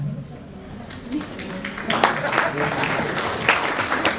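Audience at a scientific conference breaking into applause for standing staff members, the clapping building up after a quiet start and continuing steadily, close and fairly loud.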